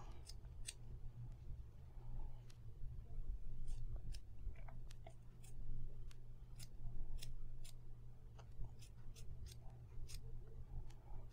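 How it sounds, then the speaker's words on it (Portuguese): New, sharp scissors snip through yarn to make a pompom, delivering a long series of crisp, close cuts at an uneven pace over a faint low hum. "essa minha aqui tá nova, então tá fácil de cortar"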